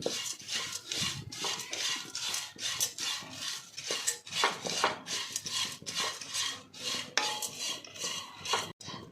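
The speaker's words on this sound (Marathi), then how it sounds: "मी पोहे हे परतून घेतलेले आहेत" Dry poha flakes are roasted in a pan while being stirred, giving rapid repeated scraping and rustling strokes of a spatula against metal, close and continuous.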